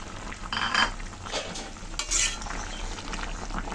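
A spoon stirs a tilapia curry with taro in a pot, giving a few soft scraping swishes and light clinks over a low simmering bubble, close and without voices.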